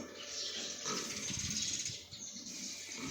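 Pigs on a farm, asleep in their pen, give low grunts and snuffles that rise and fall over a steady high hiss of background noise.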